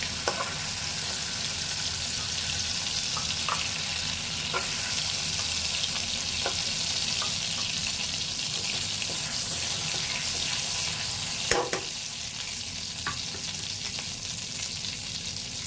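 Prawns fry in hot oil in a pan, a loud, steady sizzle running throughout with occasional sharp scrapes and clicks of stirring, one louder knock near the end, and no voices.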